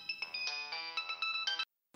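A mobile phone ringtone plays a bright repeating electronic melody in quick pulses, clear and close, cutting off abruptly into silence.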